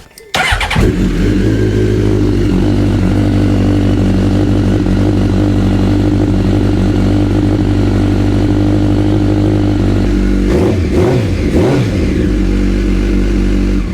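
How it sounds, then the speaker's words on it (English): A Honda Blackbird CBR1100XX motorcycle with its fuel tank lifted after an air filter and spark plug service starts with a sharp crank. It settles into a loud, steady four-cylinder idle close by, then blips the throttle twice near the end. "What I'm going to do now is I'm just going to start the bike up with the tank lifted."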